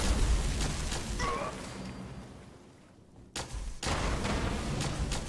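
In Fallout 76, gunfire aimed at the player comes as loud repeated shots and bursts, dipping briefly before a heavy volley resumes near the end.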